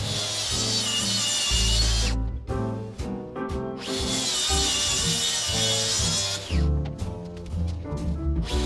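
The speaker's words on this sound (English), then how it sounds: "This is as long of a cut as I can make with this piece of Makita track I have" A Makita track saw cuts along a wooden board in two loud, high, whining bursts separated by a short pause, over a steady low hum in the background.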